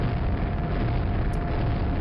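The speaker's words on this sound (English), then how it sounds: "I mean, there's an explosion." A Quake video game explosion rumbles as a dense low boom that sustains without letting up, with a faint brief crackle near the end and no talk over it.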